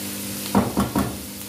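Egg fried rice sizzles in a frying pan while a utensil stirs it, giving three quick scraping strokes over a steady low hiss.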